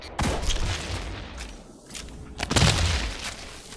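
Gunfire in Destiny 2 aimed at yellow sacks: a rapid string of loud shots in the first second, a brief lull, then another heavy burst of cracking shots with booming impacts near the end.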